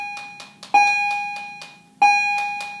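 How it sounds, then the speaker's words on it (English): A doorbell chimes twice, ringing clearly and loudly with tones that hang in the air. Several quick taps or knocks sound between the chimes. "Okay, ignore that bell."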